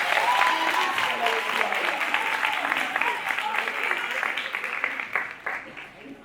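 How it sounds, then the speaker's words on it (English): A graduation crowd at West Oak Lane Charter School applauds the valedictorian, sustained dense clapping from many hands that holds steady, then thins and fades out near the end. "One last round of applause for our valedictorian."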